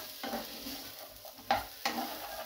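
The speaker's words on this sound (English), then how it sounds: "All we're doing is softening the onions up" Onions soften in a frying pan for chicken curry, a steady close sizzle with a couple of louder scrapes as they are stirred, no voices.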